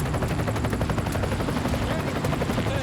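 A rescue helicopter sets up a short-haul insertion of wildlife wardens into California woodland, its steady rotor chop loud and close throughout, with muffled voices mixed into the thrum.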